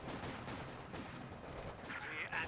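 Automatic machine-gun bursts from a captured Vickers in the game Company of Heroes 2, loud and dense with battle noise throughout, and a voice talking over the gunfire.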